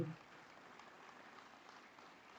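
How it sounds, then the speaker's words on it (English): Faint, distant applause from an opening-ceremony crowd, a thin, steady patter of many hands sustained for a couple of seconds after a brief louder burst at the start. "Let's give them a round of applause"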